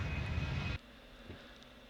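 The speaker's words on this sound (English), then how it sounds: "I'm going to use the idle engine to help me get off the runway a little bit." A Boeing 777 jet engine at idle in a flight simulator game, a steady loud roar that cuts off abruptly under a second in, leaving a faint low hum.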